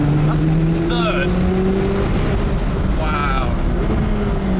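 A McLaren 570GT sports car accelerating hard in third gear on a volcano road, its engine a steady loud drone rising in pitch through the clip, heard from inside the cabin with people talking over it.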